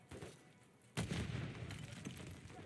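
A grenade blast in the shooter game Call of Duty: Modern Warfare III, a single sudden booming explosion with a rumbling tail, following a brief fainter thump.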